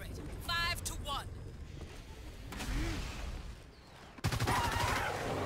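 Gunfire and mechanical effects from the video game Evolve come in short bursts and clanks amid game noise, with a player's voice talking over parts of it and a sharp loud burst near the end.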